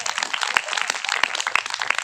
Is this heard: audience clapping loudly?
yes